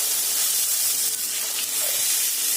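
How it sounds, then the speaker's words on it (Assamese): Spice paste poured into a hot wok for an Assamese river sole fish curry with curry leaves gives off a steady, bright sizzling hiss, close and alone. "এতিয়া আমি পেষ্ট কৰি লৈছোঁ যে সেইখিনি গোটেইখিনি ধুনীয়াকৈ কেৰাহীত ঢালি দিছে"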